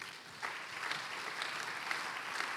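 A church congregation at a Sunday worship service claps steadily, a soft continuous patter of many hands heard from some distance without a break.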